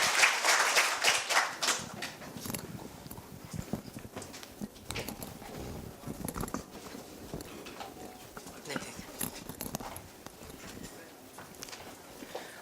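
Audience applause welcoming a student speaker to the stage at a middle school speaking festival, loud scattered clapping at first that thins into sparse claps over a steady murmur, with some talk mixed in.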